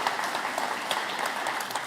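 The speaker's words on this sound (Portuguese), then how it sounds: "Posso pedir uma salva de palmas para essa equipe?" A church congregation claps for the ministry team during a Sunday service, a steady wash of many hands filling a large room, fairly soft and continuous.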